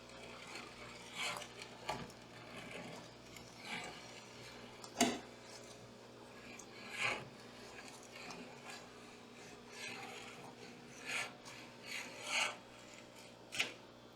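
A scraper rasps along the glass of a fish tank, stripping old silicone from the top and sides in a series of short, separate strokes, quiet and close in an otherwise calm room.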